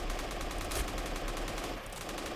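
Rapid, sustained machine-gun fire from a Saboteur Squad MG in a World At War mod game, a dense, steady stream of rounds. The burst is loud and continuous, then eases slightly near the end.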